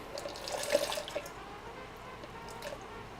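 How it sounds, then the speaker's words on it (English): Hot tap water is poured out of a teapot into a sink, a soft trickle and splash with a few drips, fairly quiet and close. "so I just need to empty out half the hot tap water"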